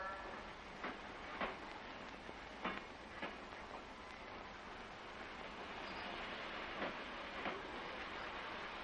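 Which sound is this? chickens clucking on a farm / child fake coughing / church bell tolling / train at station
train at station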